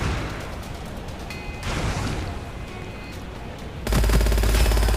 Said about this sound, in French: Oh oui, c'est très fun la mitrailleuse.